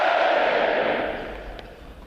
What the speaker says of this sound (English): how about another round of applause for our award recipients